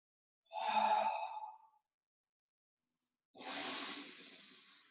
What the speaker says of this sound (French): On est parti pour 5 respirations abdominales dans cette posture.